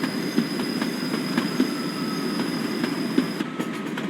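Turbo train rounding a curve in a train simulator game, a steady rolling rumble with rhythmic wheel clicks over rail joints, fairly close, with no talking.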